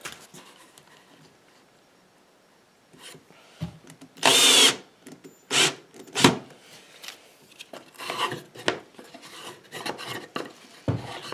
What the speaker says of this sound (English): With the bandsaw, I'll just sort of cut a V in there.